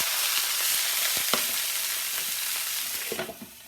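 Minced shallots sizzle steadily in a frying pan, a continuous hiss with a few soft clicks and stirring taps, fading slightly near the end.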